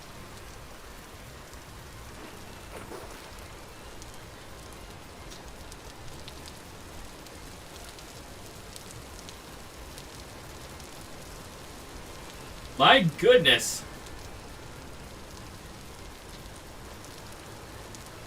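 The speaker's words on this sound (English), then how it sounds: "Rain is so loud." Heavy rain pours steadily in the game Vintage Story, a soft continuous hiss that runs underneath the whole stretch, with a short burst of someone speaking near the end.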